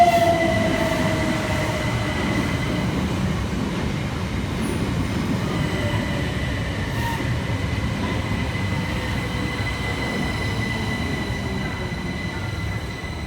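Southern Class 377 units 377407 and 377414 run into Carshalton station with a steady rumble of wheels on rail and thin, drawn-out squeals from the wheels as the train draws in.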